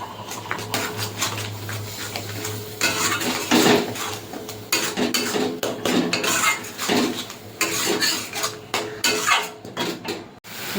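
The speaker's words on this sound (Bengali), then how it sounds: "মিক্সির বাটিটা ধুয়ে জল দিয়ে দেবো।" A mixer grinder jar being rinsed and filled with water, with irregular clinks and knocks of metal and dishware, water movement, and handling noises in a kitchen, close and uneven, with no talking.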